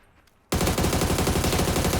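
Gunfire from a Dragunov rifle in the video game PUBG erupts suddenly after a quiet moment, then continues as a dense, loud, rapid barrage of shots until the end.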